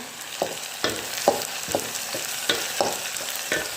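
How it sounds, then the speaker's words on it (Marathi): Ginger-garlic paste sautéing in hot oil, a steady sizzle broken by regular scraping strokes of a spoon against the pan, close and fairly loud with no talking. "आता मी चांगलं परतून घेते याचा कच्चेपणा निघून गेला म्हणजे झालं"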